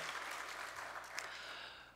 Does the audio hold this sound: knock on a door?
no